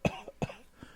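A person imitates a cough in a studio: two short, close, throaty coughs, each followed by a softer trailing catch, then a faint breathy tail.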